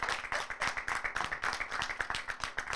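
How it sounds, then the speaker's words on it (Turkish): A group of high school students clap rhythmically in a steady, even beat, fairly quiet and slightly distant, with no talking over it. "Gençler, kendinizi şöyle güçlü bir şekilde alkışlayabilir misiniz?"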